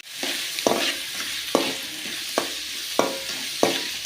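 Mustard seeds, dal, chillies and chopped onion sizzle steadily in two spoons of hot oil while a spoon stirs the pan with regular scraping strokes about once a second, close and without talk.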